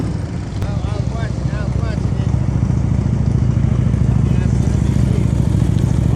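A motorcycle rolls through a slow-speed riding practice drill in Pennsylvania while the rider holds the brake. The engine gives a loud, steady close drone with some clatter, and someone talks over it.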